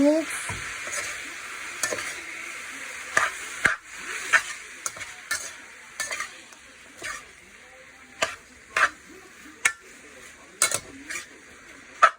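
Shirataki noodles and cabbage being stir-fried for low-carb pancit canton, with a steady background sizzle broken by frequent clinks and scrapes of a utensil against the pan, fairly close and without talk.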